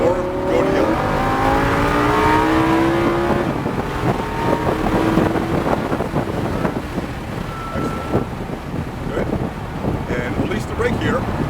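A Lamborghini Huracan engine accelerates on a track, with rising rev sweeps early, then a busy, wind-buffeted engine roar mixed with road noise that stays fairly loud and steady throughout.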